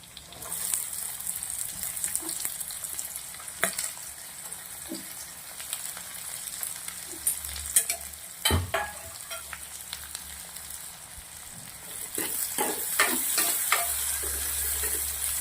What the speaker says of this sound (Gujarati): ડુંગળીને સરસ શેકી લઈશું